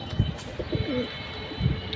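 A pigeon coos in a few soft, low bursts, close by and fairly quiet, with short pauses between calls.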